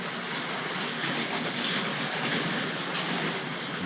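A model train runs around a layout track at a collectors' society show, its steady clickety-clack of wheels on rail joints rolling along continuously and fairly close, with no talking.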